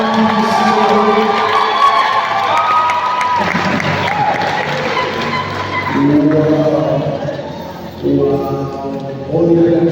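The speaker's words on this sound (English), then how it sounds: "I want you to clap your hands." A congregation at a church wedding claps and cheers in a dense, continuous burst of applause, with voices and shouting mixed in and rhythmic clapping toward the end.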